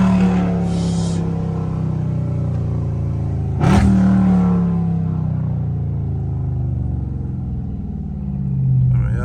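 Dodge Scat Pack V8 in sport mode, revved close by with a deep rumbling idle rising into a sharp throttle blip midway, then settling back to a steady low growl.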